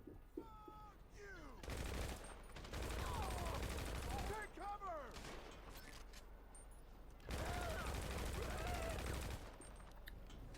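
Automatic gunfire in the GTA Online Diamond Casino Heist video game, several sustained bursts of rapid shots a few seconds long, separated by quieter gaps with game sound effects.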